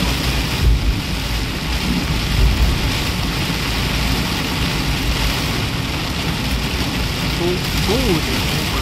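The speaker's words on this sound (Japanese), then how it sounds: "豪雨ですね、これは。" Heavy rain roaring steadily as a dense, broadband wash, heard from inside a vehicle driving on National Route 17 in Fukaya, Japan, with engine rumble underneath; a voice speaks briefly near the end.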